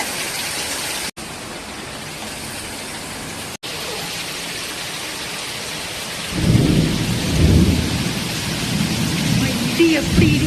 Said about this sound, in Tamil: எப்படி இடிக்குது பாருங்க, சத்தம்